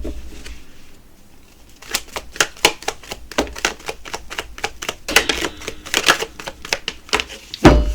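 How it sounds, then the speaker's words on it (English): Rapid crisp riffling of tarot cards in a poker shuffle, with bursts of fast clicking flutter that build and repeat, close and fairly loud, no talking. "And then we're going to do the poker shuffle."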